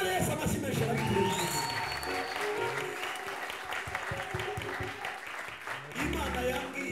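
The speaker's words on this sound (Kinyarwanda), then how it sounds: "Reka dukomere Yesu amashyi menshi arabikwiye" A church congregation bursts into sustained applause for Jesus, with dense clapping and crowd noise throughout and voices calling out over it.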